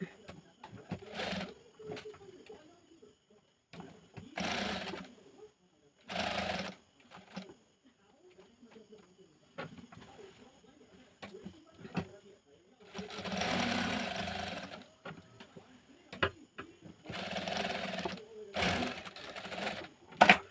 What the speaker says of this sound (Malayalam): ഇനി കഴുത്ത് വെച്ച് അടിച്ചു കൊടുക്കാം.